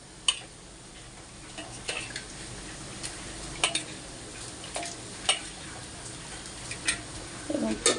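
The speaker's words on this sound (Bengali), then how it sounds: "আর এই হচ্ছে আলু ভাজা, উচ্ছে আলু ভাজাটা আমি করছি।" Bitter gourd and potato frying in a pan, a faint steady sizzle broken by occasional sharp scrapes and ticks as the pieces are stirred.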